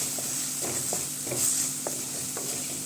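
A spoon stirs fish curry masala with turmeric powder in a pan, giving a run of scraping, slushy strokes over a low sizzle of frying, close and steady with no voices.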